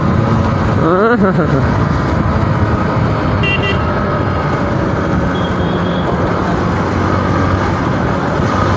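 A 2022 Hero Xpulse 200 4V motorcycle ridden in fourth gear over a potholed road, its engine and wind roar loud and steady throughout, with a brief rising whine near the start.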